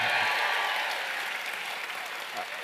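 Mayo football supporters cheer and clap in a dense burst of applause that starts loud and slowly tapers off, crowd noise filling the space with no clear speech.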